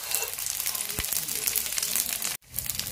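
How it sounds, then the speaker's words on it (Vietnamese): Vegetarian pork belly frying in a pan until golden on both sides, a steady close sizzle with crackling that runs almost continuously, briefly cut off near the end before resuming. "mình chuyển sang mình chiên hai mặt cho nó vàng hết ha"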